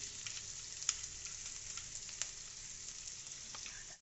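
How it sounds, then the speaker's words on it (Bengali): Green chillies and onion fry in a pan with a faint, steady sizzle. A few soft ticks and pops sound over about four seconds, quiet and close, with no talking. "কাঁচা লঙ্কা পেঁয়াজটা আমরা ভেজে নিচ্ছি"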